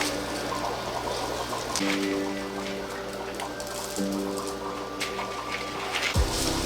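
Water pours steadily into a container while pond matrix is rinsed in a fish room, a continuous trickling rush with a faint pump-like hum underneath, no talking.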